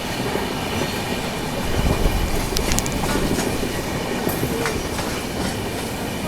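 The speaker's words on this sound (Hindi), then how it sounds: "अभी अपनी ट्रेन स्किप कर रही है सेंटा क्रूज लोकल स्टेशन" The Mumbai–Amritsar Paschim Express runs through Santacruz station without stopping, heard from on board as a loud steady rumble with clattering wheels and a few brief metallic squeals.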